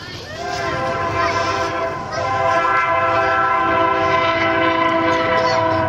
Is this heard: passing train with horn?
yes